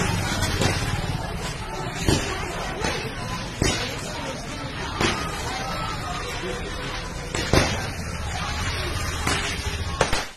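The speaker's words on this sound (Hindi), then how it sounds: "मैच में इंडिया की हार के जश्न में श्रीनगर में पटाखे फोड़े गए" Firecrackers bursting in Srinagar during a street celebration after a cricket match loss, sharp bangs going off irregularly over a steady crowd hubbub, with several loud reports standing out against constant background noise.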